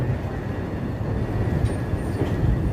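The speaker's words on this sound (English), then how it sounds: "I like how you can look right above here and you can see the L train round in the bend here" A Chicago L elevated train rounds a curve overhead in a city street, a loud continuous rumble and rattle of wheels on track with faint squeals, steady from start to finish.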